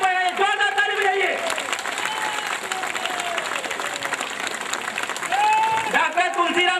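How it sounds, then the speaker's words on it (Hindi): Crowd applause at an outdoor political rally in Bahraich, Uttar Pradesh, a steady patter of clapping running beneath a loud announcer talking over it. "जोरदार ताली बजाइए भाई, जोरदार ताली बजाइए।"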